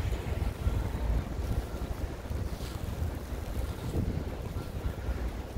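Strong wind roars steadily outdoors during a snowstorm in Chicago's Streeterville neighborhood, buffeting the microphone in a continuous, loud rushing wash with no voices.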